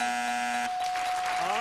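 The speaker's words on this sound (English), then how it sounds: "the bell has sounded" A game show bell rings out on a syndicated 2001 panel show to signal that time is up, a bright sustained electronic tone with a second chime layered in, under audience noise and talk.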